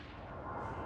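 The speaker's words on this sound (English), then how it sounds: "Strike inbound." Incoming artillery strike in a military video game: a dense, continuous rumble of distant explosions that slowly swells louder across the clip, with no voices.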